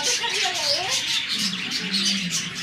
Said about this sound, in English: And now these are the budgeries